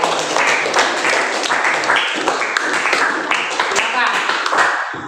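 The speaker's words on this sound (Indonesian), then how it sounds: "berikan tepuk tangan untuk kelompok 3 yang telah berani" A classroom of students claps for a student group, with brisk, fairly close applause of moderate size that continues steadily throughout.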